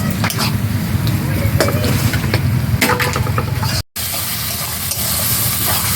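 Spice paste cooks in hot oil in a pan, giving a loud, continuous sizzle with repeated scraping and stirring strokes; a very brief dropout interrupts the sound partway through.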